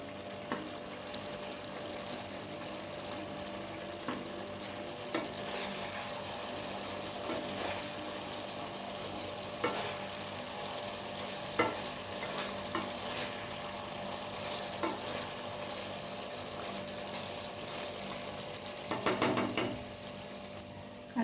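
Brinjal being stirred and coated in spice masala in a pan for a stuffed masala brinjal dish, a steady soft sizzle with scraping stir strokes throughout, one louder scrape near the end, no talking.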